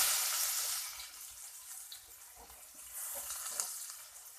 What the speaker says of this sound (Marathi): आता आपण याच्यात कांदा घालणार.